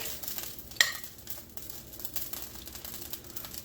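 Venison patties being pushed and stirred into gravy in a pan, a soft wet sizzle with scraping, and one sharp utensil clink near the start.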